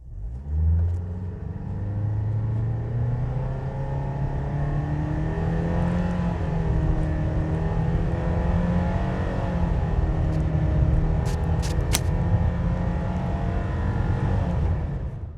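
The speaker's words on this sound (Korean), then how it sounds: "차량의 가속 느낌 한번 살펴보겠습니다." A 2021 Renault Samsung QM6 2.0 LPG SUV engine hums steadily from inside the cabin, its pitch climbing gradually as the vehicle accelerates, with a few faint clicks near the end.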